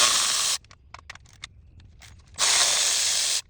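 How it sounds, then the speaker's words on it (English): A Milwaukee powered ratchet whirs in two loud, close bursts, each about a second long, while backing out valve cover bolts on a Cummins engine, with quiet clicks and handling noise between them. "This Milwaukee ratchet right here, probably my favorite purchase."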